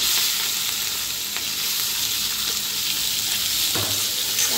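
Chopped onion frying in hot oil with curry leaves and chilies in a pan while making Mumbai-style egg bhurji; a steady, close hiss of sizzling with an occasional stir or scrape.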